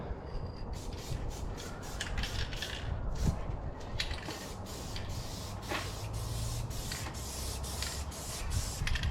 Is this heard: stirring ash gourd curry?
no